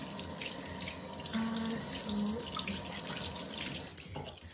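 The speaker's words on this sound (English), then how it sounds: "Sorry, I always wash my hands." Hands are washed under a running tap, with a steady close hiss of water and splashing that shifts slightly as the hands move through the stream.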